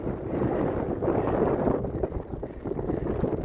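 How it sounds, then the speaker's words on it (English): Steady wind roars and buffets the microphone in a continuous low rumble on high moorland on Dartmoor, with no voices. "There's a lot of wind."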